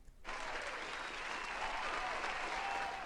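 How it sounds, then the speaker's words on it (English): A crowd bursts into steady, dense applause after a brief quiet start, the clapping holding at an even level throughout. "Please give him a round of applause."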